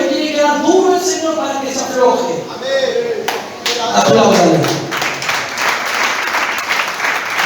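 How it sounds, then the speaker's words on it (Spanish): Congregation at a Spanish-language church service clapping, a broad wash of applause building from the middle onward, with a preacher's voice speaking loudly over it at first. "Apláudale."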